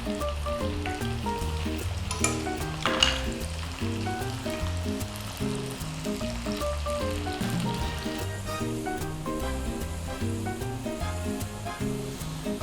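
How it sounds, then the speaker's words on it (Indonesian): Frozen french fries frying in hot oil, a loud continuous sizzle and crackle with steady bubbling, close up and without talk, faint music underneath. "langsung kita goreng pakai minyak panas"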